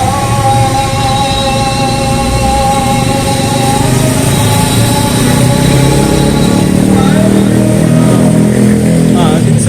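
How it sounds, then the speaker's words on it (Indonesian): Motorcycles and scooters pass along a busy night market street in Jakarta's old town, a steady layered engine drone near and far, with crowd chatter mixed in throughout. "Kendaraan motor."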